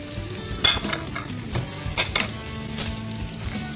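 Onions softening as they fry in a pan for chana dal, a steady close sizzle with several scrapes and taps of a spoon stirring against the pan, no talking.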